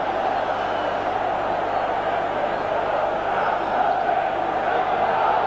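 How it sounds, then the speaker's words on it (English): Italian football fans cheer ironically in a packed stadium at a 1988-89 European Cup semi-final between Milan and Real Madrid, a steady distant crowd roar that holds for several seconds without clear peaks. "that certainly produced some ironic cheering from the Italian fans who know all about Sanchez"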